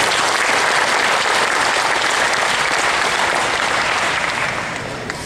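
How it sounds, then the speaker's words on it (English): Loud, dense applause from a large audience at an 8th grade school promotion ceremony, a thick wash of clapping that holds steady and then begins to taper off near the end. "let's give him a big round of applause."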